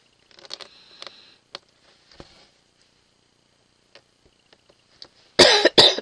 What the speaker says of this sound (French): Je suis désolée. Je vous tousse dessus.